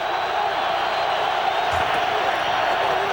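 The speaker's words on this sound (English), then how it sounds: "the crowd starting to give its vocal support to the Eagle defense" Stadium crowd at an NFL game between the Giants and the Eagles, roaring steadily in support of the Eagles defense before a third-and-short play; the dense, continuous cheer stays loud and even throughout with no single voice standing out.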